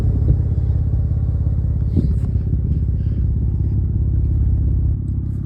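A vehicle pulls a boat trailer forward off a launch ramp; its engine gives a continuous close, low rumbling drone with slight clatter and no clear rise in revs.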